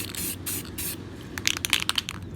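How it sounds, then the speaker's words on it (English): Spray paint hisses onto a lowrider bike frame during bodywork, in several short close bursts, with quicker choppy sprays toward the end. "you want to take the paint and just spray it on"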